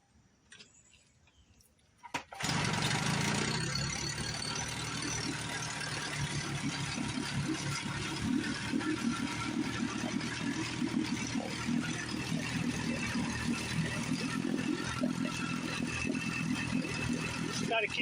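After about two seconds of near quiet, a restored secondhand outboard motor fed from a regular fuel tank starts up and runs loudly and steadily nearby, with a fast mechanical ticking through its drone.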